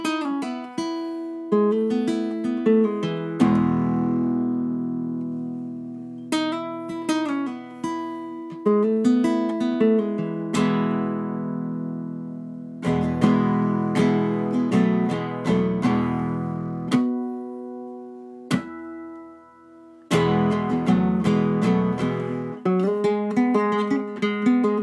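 Acoustic guitar plays the solo intro of a song, plucked notes and ringing chords with gaps between phrases, close and clear with no voice.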